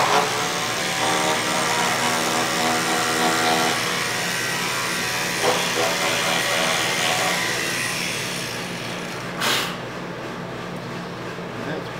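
Router plunge-cutting into wood, a loud continuous high whine with a grinding edge that eases as the cut finishes, then a brief knock near the end.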